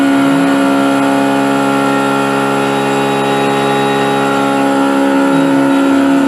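A Langmuir Systems MR-1 mill cuts steel at 4,040 RPM and 14 inches a minute, giving a loud, steady whining drone with layered tonal hum that holds constant throughout, no talking.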